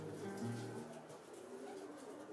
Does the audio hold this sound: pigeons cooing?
yes